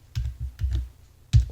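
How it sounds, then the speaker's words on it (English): A few quick, close key presses on a computer keyboard come in two short bursts, typing a short command into CNC control software. "We type in port set 4"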